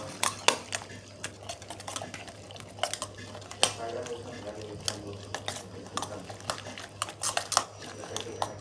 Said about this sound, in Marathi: 2 अंडी फोडून टाकायचे. मिक्स करून घेऊया